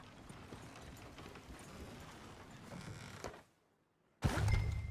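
Horse hooves clip-clop in Red Dead Redemption 2, a steady quiet patter of hoofbeats under ambient noise, followed by a brief silence and then a sudden louder burst.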